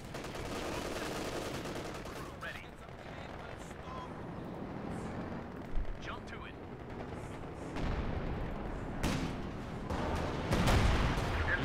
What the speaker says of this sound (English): Doing a creeping barrage.